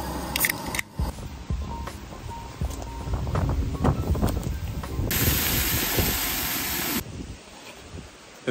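Strong wind buffets the microphone at a Jeep campsite in Michigan's Upper Peninsula, a loud continuous roar of gusts and rumble that rises and falls with no talking.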